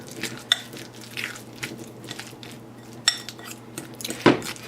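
Banana oatmeal protein bite batter being mixed in a bowl, with soft wet scraping and stirring and a few sharp utensil clinks against the bowl, close and without talk.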